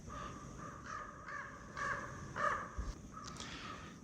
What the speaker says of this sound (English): There's a common raven.